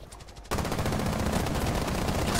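Sustained rapid automatic gunfire in a first-person shooter video game bursts in loudly after a quieter half-second and rattles on steadily to the end.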